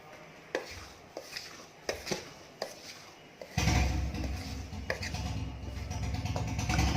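Maida (refined flour) being mixed with baking powder and salt for balushahi dough, heard as a run of scattered soft taps and scrapes that gives way to a louder, steady rubbing and rustling in the second half, with no talking.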